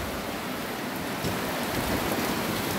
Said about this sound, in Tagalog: At saka ang lakas po ng ulan talaga.